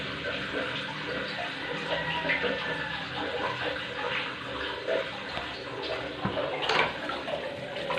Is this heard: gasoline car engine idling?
no